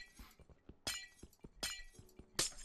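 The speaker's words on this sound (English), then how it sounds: "That means I'm going to have to break a bunch of this glass, but it's okay." Glass panels shatter in a Minecraft modpack game, three or four sharp, bright breaking crashes spaced about a second apart with small clinks between, loud and close, with no talk.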